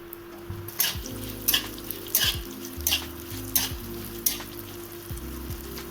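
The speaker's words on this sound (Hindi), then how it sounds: "थोड़ी देर गाजर को कर लेते हैं फ्राई।" Carrots frying in a kadhai after paneer, a continuous soft sizzle punctuated by repeated bright scrapes of a spatula, with a steady low hum beneath.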